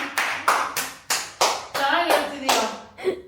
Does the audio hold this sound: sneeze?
no